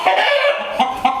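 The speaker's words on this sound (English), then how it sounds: "So when they start clucking," Hens cluck inside a chicken coop with a protective rooster nearby, giving a close, continuous run of throaty clucks and short rising calls with a few sharper accents toward the end.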